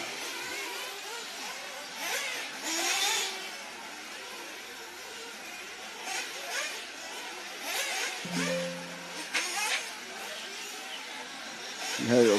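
1/8 scale off-road RC cars racing past at a European championship finals day, faint high-pitched buzzing engines whining by in quick passes against a busy outdoor background, with a commentator talking.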